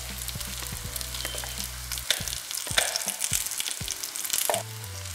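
Onion and ground masala paste frying over a low flame for a kulambu, a close crackling sizzle broken by spoon scrapes and stirring, with a low steady hum underneath.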